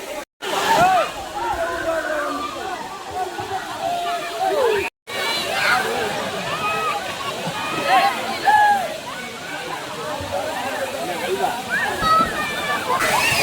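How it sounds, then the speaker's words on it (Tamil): Water at the Thirumoorthy hills falls, flowing lower than usual, sloshes and splashes continuously nearby, with people talking over it throughout. "தண்ணி என்ன ரொம்ப கொஞ்சம் கம்மியாக வருது"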